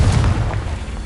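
A Confringo fire spell bursts in the Hogwarts Legacy video game, one short, loud, deep boom that quickly fades, with no talking.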